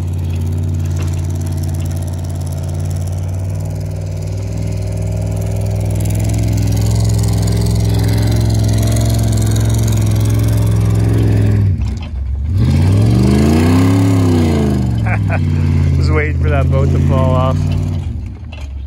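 A 4x4 engine revs hard while drifting through snow, the steady drone swelling and falling in pitch as the throttle is worked, with people talking over it.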